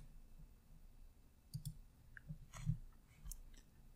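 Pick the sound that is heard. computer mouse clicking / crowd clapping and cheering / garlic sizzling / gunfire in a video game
computer mouse clicking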